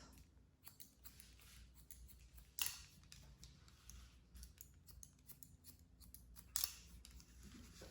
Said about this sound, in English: that's the first time I've heard the scissors.